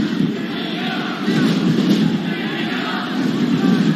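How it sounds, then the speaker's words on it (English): A 1992 rugby league stadium crowd at Cronulla versus Gold Coast Seagulls roars in a steady, swelling mass of cheering that rises partway through, with commentary voices mixed in. "Crowd starting to get behind them."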